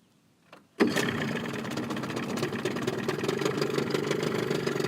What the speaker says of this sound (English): I'm going to start it.